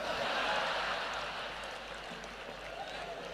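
An audience applauds, dense clapping that swells at first and then slowly fades while staying steady, moderately distant.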